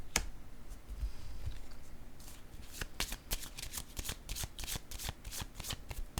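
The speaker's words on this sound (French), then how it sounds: "Je vais déposer une carte sur la tentation ici pour voir si je pourrais avoir des détails." During a tarot-style reading, cards are shuffled and handled up close with rapid riffling flicks and soft slaps, then a card is set down on a table, with no talking.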